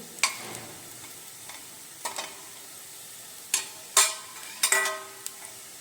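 Garlic frying in oil in a pan, with a steady soft sizzle broken by several sharp clicks and scrapes of a utensil stirring against the pan. No voices.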